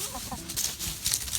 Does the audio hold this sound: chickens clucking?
yes